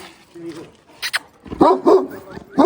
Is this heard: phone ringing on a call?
no